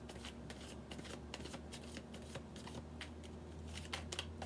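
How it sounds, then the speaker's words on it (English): A deck of tarot cards is shuffled steadily for several seconds, with soft riffling and slapping bursts over a low background hum, fairly quiet and close. "We are shuffling the deck for Virgo."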